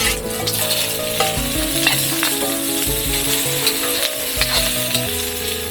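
Ingredients for lomi with chicken being sautéed in a pan, a loud, dense, close sizzle running throughout with scattered crackles and a steady tonal background hum.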